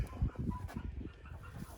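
Chickens cluck softly nearby in short, uneven bursts of low throaty sounds.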